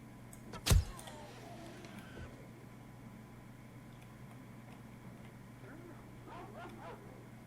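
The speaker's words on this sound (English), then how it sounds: "What's that dog after?" A single sharp dog bark rings out near the start, loud against a steady low hum and faint ambient noise, in the survival video game 7 Days to Die.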